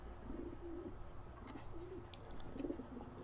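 Pigeons coo in the video game L.A. Noire, several soft, throaty burbling calls spread across the stretch, moderately close over steady ambient hum, with faint clicks and scuffs in between.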